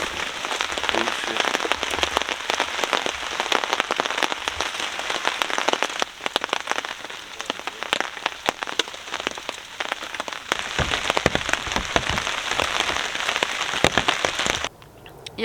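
Rain drums steadily on a camping tarp, a dense crackling patter of close drops with heavier bursts, continuing for the whole stretch before cutting off abruptly near the end.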